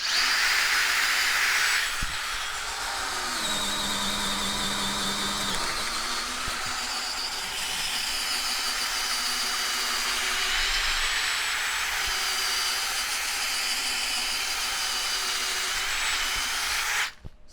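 Power drill with an auger bit boring a hole through a wood block, a steady loud whine that shifts pitch as the bit bites and slows, running continuously and stopping abruptly at the end.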